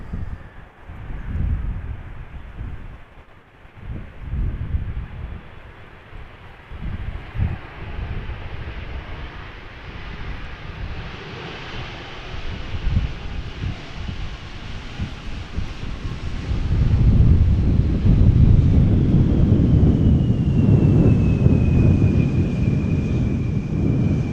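A KLM Embraer 175 airliner touches down in gusty crosswind at Amsterdam Schiphol, with a rumbling engine roar under buffeting wind noise that swells louder toward the end as the jet rolls past.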